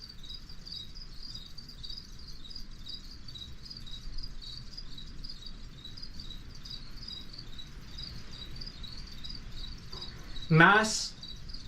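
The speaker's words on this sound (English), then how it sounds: "The sound in the background are crickets. Like actual crickets." Crickets chirp steadily inside a greenhouse of Venus flytraps, a faint continuous high trilling in the background, interrupted near the end by a short spoken word close by.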